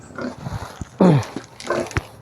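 Hungry farm pigs grunt and squeal at feeding time, with several short close snorts and one loud squeal in the middle.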